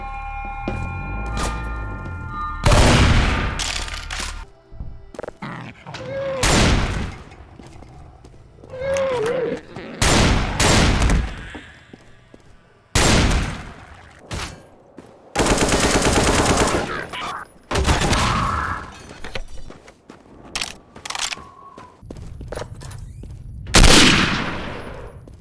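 M1 Garand rifle fire in the Snowdrop Escape Source mod video game: loud, sharp, isolated shots and short bursts scattered across the clip with gaps between, plus louder gunfire and occasional background game sounds.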